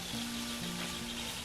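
Wild chanterelle mushrooms fry in a pan with a steady, bright sizzle under a faint low hum, continuous throughout with no talking.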